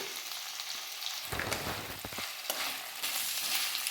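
Tomatoes go into ginger-garlic paste frying for chicken curry: a low sizzle bursts louder and fuller as they hit the hot pan, then settles back into a steady close crackle without speech.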